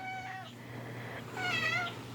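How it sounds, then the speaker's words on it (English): A pet cat meows twice, a short call followed by a longer, louder one, close by in a quiet home with no talking. "I have to go capture the kitty"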